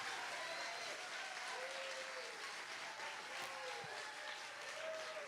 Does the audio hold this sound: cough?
no